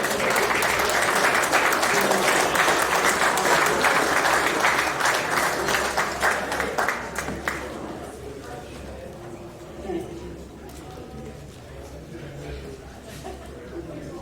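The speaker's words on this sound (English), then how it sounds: "Round of applause for Mark as well." An audience at a boxing hall of fame event claps loudly and continuously for several seconds, then the applause dies away to scattered claps and quiet murmuring.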